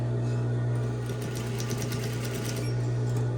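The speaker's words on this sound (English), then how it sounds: "I'm just stitching in the seam allowance" A sewing machine stitches the base seam of a tote bag at the seam allowance, making a steady, close motor hum with fast, even needle ticking that runs without a break.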